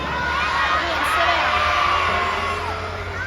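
A large crowd of fans at a live monster truck show in Philadelphia screams and cheers together in a loud, sustained roar, with children's shrill voices standing out.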